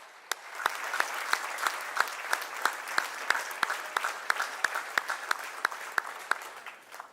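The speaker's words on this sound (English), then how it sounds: "a big round of applause and a standing ovation for O Suzuki-san." A crowd gives a standing ovation, applauding continuously and steadily, with dense clapping and some sharper individual claps standing out, heard from a moderate distance.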